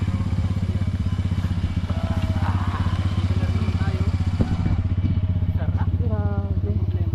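Motorcycle engines idle steadily close by on a rural dirt road in Bicol, with a loud, rhythmic low throb running the whole time while people talk over it.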